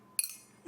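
A single bright clink of glasses touched together in a toast, close and ringing briefly before fading, with faint sounds around it.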